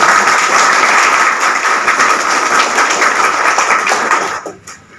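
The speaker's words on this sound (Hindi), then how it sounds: "हमारी ओर से आप लोगों के लिए एक शानदार ताली होनी चाहिए।" Loud, close crowd clapping at a network marketing seminar, sustained and dense before it tapers off and stops near the end.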